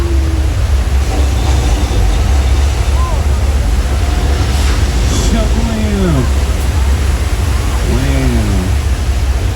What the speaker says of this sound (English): Massive flash floods.